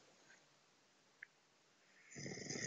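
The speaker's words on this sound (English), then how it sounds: "Jeffrey snores." A man snoring: near silence gives way to one rough, rising snore that grows louder over the final half second.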